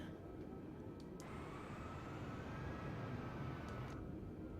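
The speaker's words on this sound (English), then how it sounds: "We should get engine 2 all started up here in just a second." Engine 2 of an Airbus A320 spools up in Microsoft Flight Simulator 2020, on a Hawaii island-hopping flight: a quiet, steady low rumble with a thin whine rising slowly through it.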